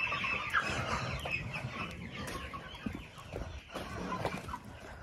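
Small chicks peep and cluck while eating, a soft ongoing chatter of farm birds at moderate distance, with a few scratchy pecking sounds and no talk.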